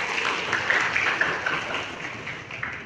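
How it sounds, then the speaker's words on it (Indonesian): An audience at a Partai Demokrat witness training session on the Sirekap app claps in a steady, moderately loud round of applause that carries on throughout. "Tepuk tangan dong."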